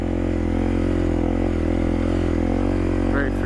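A dual sport motorcycle engine runs steadily at low speed on a highway trip, a constant low drone with even harmonic rumble, close and loud throughout, and no clear revving.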